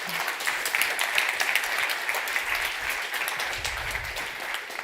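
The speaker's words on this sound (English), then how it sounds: "Please give a round of applause for Laura Slot and her team" Audience applause at a food sovereignty conference in Rotterdam, a steady patter of many hands clapping throughout, moderately loud and sustained without pause.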